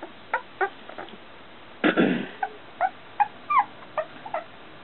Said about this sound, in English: Well fed little puppies.